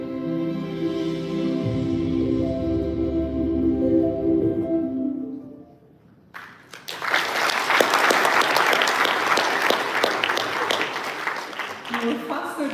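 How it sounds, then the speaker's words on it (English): Applause breaks out from the audience at a live talk on luxury in Abu Dhabi, a loud, dense wash of clapping that follows a stretch of speech and continues steadily to the end. "Let's give a warm round of applause to the chef owner of USA."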